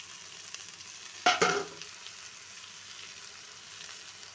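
Spinach dropped into a hot pan and stirred, giving one sudden loud sizzling clatter that fades into a quiet, steady frying hiss.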